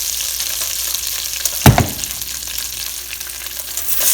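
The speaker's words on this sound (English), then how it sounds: "And now I'm going to add my pork in." Pork sizzles steadily as it fries in frothy butter in a pan. A loud, continuous crackle runs throughout, with one brief sharper burst near the middle and no voices.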